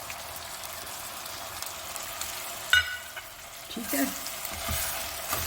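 Chopped onions hit hot oil in a pot for mutton with almonds, giving a steady soft sizzle with a sharp clatter and stirring bursts near the end, and a brief spoken remark over it.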